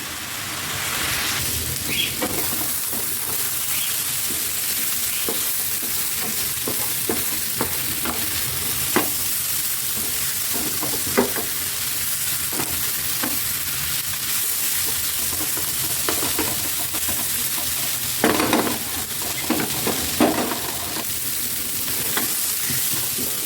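Sliced bitter gourd (karela) fries in a pan with a constant rain-like sizzle, broken by scattered spatula scrapes and taps as it is stirred.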